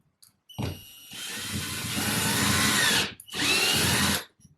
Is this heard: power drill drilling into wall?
yes